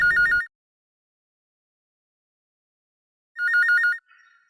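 A telephone rings in two short, bright warbling bursts with a long silence between them, clear and close, followed by a faint trailing tone.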